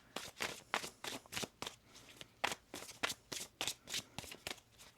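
Tarot cards riffle and snap in quick, rhythmic bursts, a steady series of close shuffling strokes with brief pauses between them.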